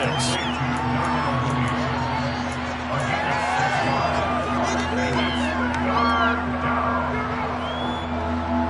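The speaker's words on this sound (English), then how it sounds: "The crowd getting into it as we come up on a big 3rd down" A stadium crowd at a Bears vs Raiders football game cheers and roars steadily, with whoops and shouts rising over a dense, continuous hubbub while voices talk throughout.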